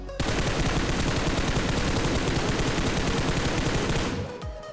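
Dense, loud automatic gunfire in PUBG Mobile, a rapid unbroken stream of close shots lasting about four seconds before cutting off abruptly.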